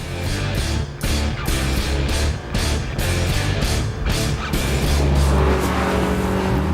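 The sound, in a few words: Lotus Elise driving on a track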